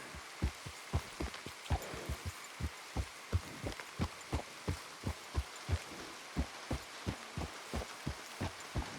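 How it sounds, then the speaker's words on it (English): Rain falling in the Red Dead Redemption 2 video game, heard as steady, evenly spaced soft thuds over a light hiss, moderately quiet with no speech. "Come on, it's raining."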